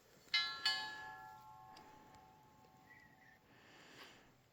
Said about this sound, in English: Sounds like a church bell.